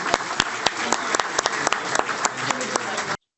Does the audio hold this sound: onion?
no